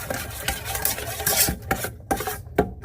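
Beef bulgogi stirred with oyster sauce in a bowl or pan, a close wet squelching and scraping with rhythmic rubbing strokes and light clinks, no voices.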